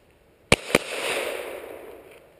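Two sharp Glock 17 pistol shots fire in quick succession, about a quarter second apart, each followed by a long broad echo that slowly fades.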